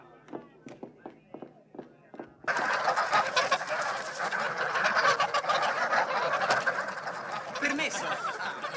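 Geese honk outdoors in a scene from the 1991 fantasy film Fantaghirò: scattered honks and calls at first, then a loud, busy flurry of cackling and movement with voices mixed in.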